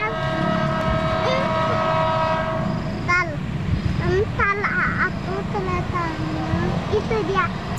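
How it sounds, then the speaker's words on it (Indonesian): KRL commuter train near Cilebut passing with a loud, steady rumble of rail cars, repeated horn tones sounding over it and background voices of people talking nearby. "Itu dia auto keretanya."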